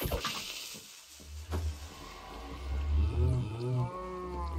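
Cows in the Minecraft video game moo in overlapping, drawn-out calls that rise and fall, loud and close, with several voices piling up toward the end over a steady background hum.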